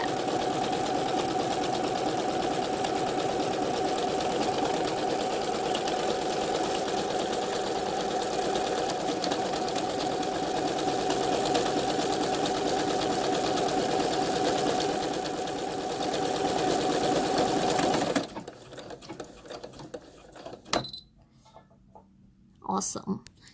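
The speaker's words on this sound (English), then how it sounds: "place this on your sewing machine, and the next thing automatic, you know, because your machine gonna do everything" A domestic sewing machine with a buttonhole attachment stitches a buttonhole on its own, a steady close mechanical whirring hum that runs evenly, then stops abruptly, leaving a few faint clicks and near silence.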